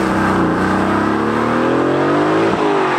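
A loud, deep 510-horsepower AMG V8 in a 2019 manual Aston Martin Vantage AMR roars and revs steadily, its pitch climbing as the car accelerates, close and continuous.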